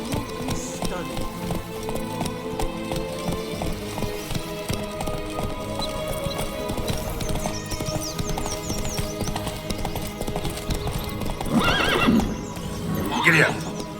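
A horse gallops in The Witcher 3: Blood and Wine. Steady hoofbeats run under a busy game soundscape, and two louder whinnies come near the end.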